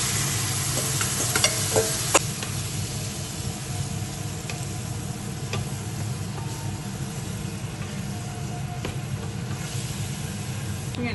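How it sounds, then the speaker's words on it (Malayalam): Kerala-style lemon pickle being stirred together with chili powder and asafoetida: continuous close scraping and stirring with a faint hissing, sizzling edge, steady and fairly loud throughout. "നമ്മൾ മിക്സ് ചെയ്ത് വെച്ചിരിക്കുന്ന നാരങ്ങയും കൂടെ മിക്സ് ചെയ്യാം."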